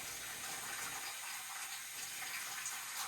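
Water runs steadily through a household water filter, a constant high hiss of flow with no breaks, close by and fairly quiet.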